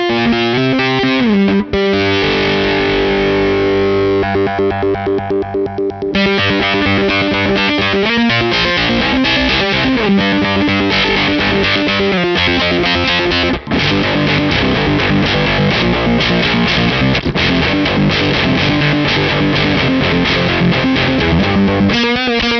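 Electric guitar through a Stone Deaf Rise & Shine octave fuzz pedal with its Octapulse effect, a thick, saturated distorted tone with rhythmic tempo-synced pulsing throughout, loud and continuous, no voice.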